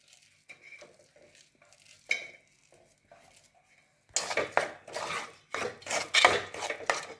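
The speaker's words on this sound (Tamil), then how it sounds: "மசிச்ச கடலைப்பருப்பு தேங்காய் எல்லாம் ஒன்று போல் நல்லா கெட்டியாக கிண்டணும்" A spoon works a thick filling of coconut and mashed chana dal in a pan for sweet kozhukattai. Soft scattered scrapes and taps come first, then louder, steady scraping and clattering strokes against the metal, close and without talk.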